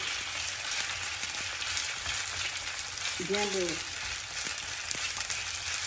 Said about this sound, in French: bien l'étaler sur toute la surface de ma poêle et je vais le laisser dorer gentiment